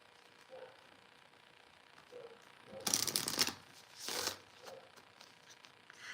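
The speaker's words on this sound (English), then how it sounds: "Let's give it a fan shuffle." Playing cards are fan shuffled, giving two quick riffling bursts amid faint quiet handling sounds, close and fairly soft.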